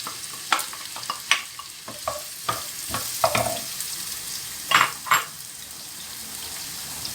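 Onion fries in oil in a pan, sizzling under repeated scraping and clinking strokes of a utensil stirring against the pan, close and moderately loud without talk.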